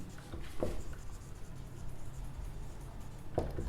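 A maths solution for a quadratic equation being written out, with a few faint, brief scratching strokes of writing against a quiet background and no talking.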